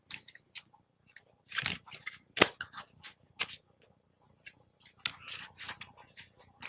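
A deck of cards being shuffled during a live card reading, heard as close, irregular bursts of riffling and snapping separated by short quiet gaps.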